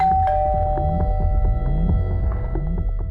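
A doorbell chimes with sustained ringing tones while a rapid series of soft knocks or taps repeats underneath.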